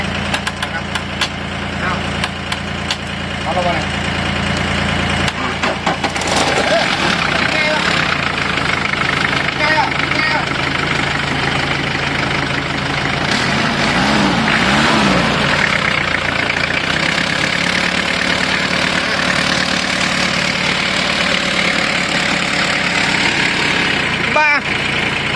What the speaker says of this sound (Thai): ดับดับฟังเสียงรถกระบะเอา เครื่องดีเลย